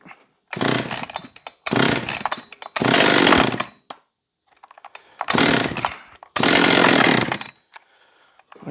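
A John Deere CS56 chainsaw with the choke engaged is pulled and fires in loud close bursts, revving briefly several times and cutting out between attempts with short pauses of quiet.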